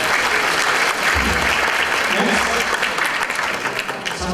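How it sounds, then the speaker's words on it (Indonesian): A lecture audience in Indonesia bursts into dense, steady applause that fills the room at full strength, with a few voices mixed into the clapping. "Oke, tepuk tangan dulu buat kita semua."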